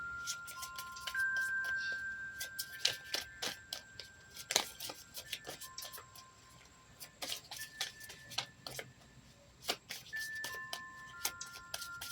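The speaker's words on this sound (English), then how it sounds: "So grateful to the wind and the wind chimes and the birds background." Wind chimes ring with sparse, clear metallic tones and sustained pitches, along with irregular small ticking strikes, sounding soft and nearby outdoors in the wind.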